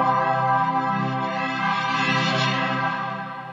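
Waves CR8 sampler layer run through a chorus stomp box effect: a sustained, shimmering harmonic pad or chord, steady and fairly loud, thinning and fading toward the end, heard alone without talking.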